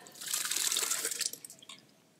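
Soaked wheat, stirred well, is poured into a cooking pot for mutton khichda, giving a short wet splashing and sloshing pour that tails off into a few drips, fairly quiet and with no talk.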